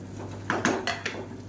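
Soaked rice is stirred in a metal pressure cooker pot, giving a few sharp clinks and scrapes of a spoon against the pot, spaced irregularly and close up, with no talking.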